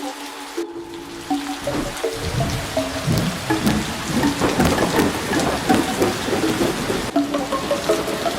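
Heavy rain patters and hisses continuously while deep thunder rumbles and rolls beneath it, with scattered drips and a brief tonal sound early on.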